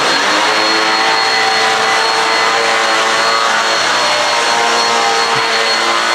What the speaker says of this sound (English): we're gonna vacuum this thoroughly